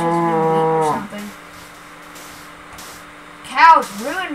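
A cow in the Minecraft video game moos loudly and up close in a long drawn-out call, then goes quiet before two shorter moos follow near the end.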